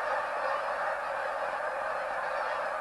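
Geese honk continuously as a dense flock is herded along a fence toward a banding pen, a steady clamor of many overlapping calls with no voices.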